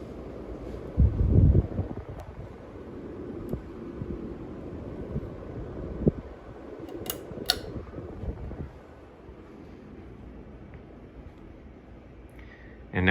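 A ceiling fan runs at high speed indoors, giving a steady roaring whoosh with a low thump early on and scattered light knocks of things blown around the room; no talking.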